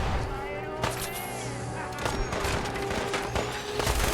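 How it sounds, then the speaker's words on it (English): Missile launcher fire in Fallout 4, a volley of booming blasts and thuds over continuous battle noise, loud and close. "Sounds like a missile launcher."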